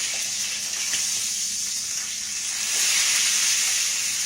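A T-bone steak sizzles loudly in a hot pan beside onions, a continuous bright hiss that swells slightly toward the end, with no talking.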